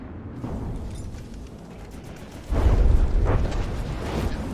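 Torpedo explosions in a naval battle video game: a sustained low booming roar swells in at about the midpoint and rolls on loudly, with a couple of bursts layered over a continuous rumbling background.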